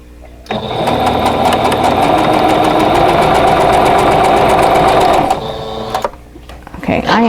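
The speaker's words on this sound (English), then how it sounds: "sew these 2 pieces together" An electric sewing machine stitches two quilt block pieces together in a loud steady whir lasting about five seconds, then stops, followed by brief handling noise and a voice starting to speak.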